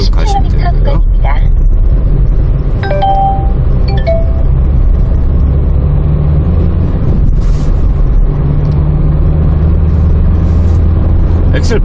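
2007 Kia Pride diesel car driving and accelerating, a steady loud engine and road drone heard from inside the cabin, with people talking over it.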